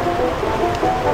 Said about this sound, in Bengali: এই দেখো বন্ধুরা কি বৃষ্টি হচ্ছে